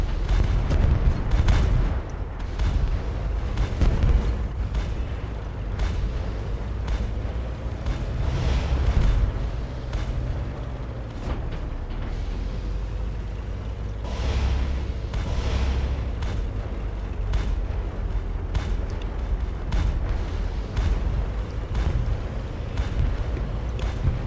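Artillery fire in the tank game Tank Off 2, repeated heavy booms and rumbling blasts scattered across a long stretch of loud battle noise, with little talk.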